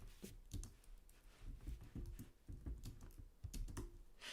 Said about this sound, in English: I'll type that into the chat box.